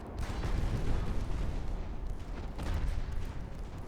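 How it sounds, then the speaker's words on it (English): Naval 5-inch guns in the warship game Ultimate Admiral: Dreadnoughts fire in a steady, rolling barrage of deep rumbling booms that overlap into a continuous low roar. "5-inch guns go to town."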